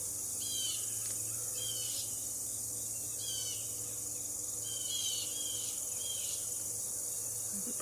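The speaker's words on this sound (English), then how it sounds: "The birds are going to town now." Birds chirp in short repeated bursts outdoors over a steady bed of cricket and insect buzzing, with faint distant traffic hum beneath.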